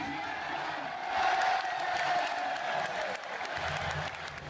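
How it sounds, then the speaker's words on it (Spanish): A football stadium crowd gives a warm ovation, with sustained applause and some cheering and whoops swelling briefly and then easing, heard as a dense wash of clapping. "Sánchez recibió la mayor ovación de la tarde cuando fue nombrado por los parlantes del estadio."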